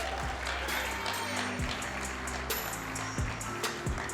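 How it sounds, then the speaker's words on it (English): An audience at the AUSCERT Challenge, a live security-conference debate event, claps in a steady, dense burst of applause that fills the room evenly for several seconds, with a low tonal hum running underneath. "Team Beck Cheb, Peter and Shanna, give them a round of applause."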